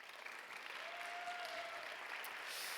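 A church congregation at a Sunday youth worship service claps together, a steady, fairly soft wash of applause lasting a few seconds with no voices over it.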